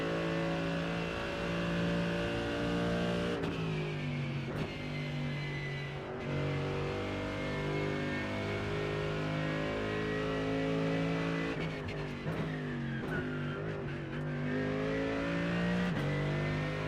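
A Mercedes AMG GT3 race car engine in the iRacing sim drones steadily and fairly quietly throughout, its pitch rising and dipping with throttle and gear changes.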